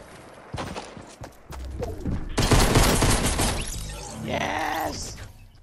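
Pistol gunfire in a video game comes as a few sharp shots early on, followed by a dense burst of noisy crashes and clatter.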